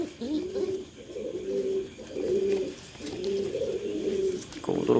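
Pigeons from a Jatrabari breeder's pair coo in repeated low rolling phrases, about one per second, close and steady, with a brief clatter near the end.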